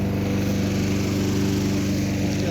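Honda lawn mower engine running nearby, a steady buzzing drone with a fast regular pulse, loud and uninterrupted.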